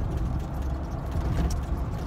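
A Jeep engine runs with a low steady rumble heard from inside the vehicle, continuous and fairly loud, with no voices.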